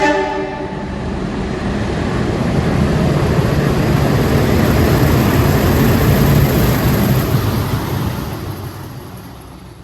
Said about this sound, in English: Here we've got a freight going by.